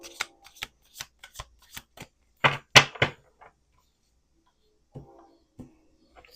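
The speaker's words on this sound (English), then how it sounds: "Let's do 1 more shuffle." Tarot cards are shuffled by hand, giving a series of sharp, close riffling snaps and taps in an uneven rhythm, then a denser flurry midway, trailing into a few soft taps over quiet.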